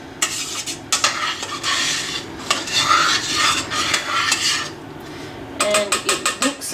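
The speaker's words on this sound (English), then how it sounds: "I'll give it another stir around and the liver juice is in it." A spoon scrapes and stirs Napoli tomato sauce in a pot, steady rubbing and sloshing close up, ending with a quick series of clinks against the pot's rim.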